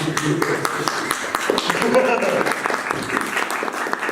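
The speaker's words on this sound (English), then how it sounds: "Wasn't expecting a clap for that" Audience clapping at a comedy roast-style stage show, a dense patter of many hands filling the whole stretch at steady loudness, with some voices mixed in.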